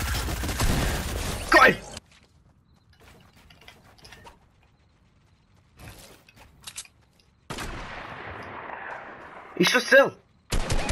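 Weapon fire in the battle royale video game Fortnite during a competitive match: a loud burst of shots, then quieter mechanical clicks and sporadic shots, with another sharp burst near the end, under excited talk.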